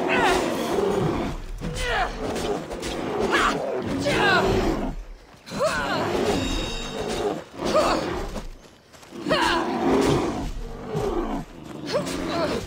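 A bear roars repeatedly in the video game Assassin's Creed Odyssey, several loud growling bursts with short gaps between them, mixed with combat noise and someone talking.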